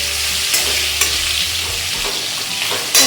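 Bitter gourd sizzles steadily in hot oil while a utensil stirs it, with a constant close crackling hiss broken by a few sharp scraping clinks against the pan.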